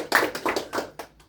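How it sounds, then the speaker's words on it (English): A short burst of hand clapping at a game table, a few distinct claps close up, fading after about a second rather than sustained applause. "Please give a round of applause as she's now leaving our"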